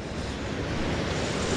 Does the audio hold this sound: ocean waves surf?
yes